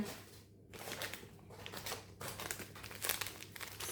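Quiet crinkling and rustling of plastic spice packets in irregular bursts, close by, with no talking.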